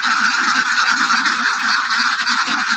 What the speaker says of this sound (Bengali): খুব সুন্দর হাঁস, প্রত্যেকটা হাঁস 1 কেজি বেশি হবে।